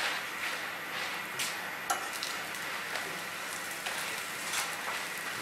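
Paratha cooking on a griddle, a soft continuous sizzle with occasional crackles and light scraping taps, close but fairly quiet, no talking over it.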